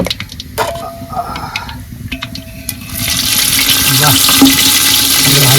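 Duck meat hits hot oil with dried chillies and bay leaf in a kadai, breaking into a loud steady sizzle after a few seconds of quieter clinks and utensil sounds, with brief talk in the background.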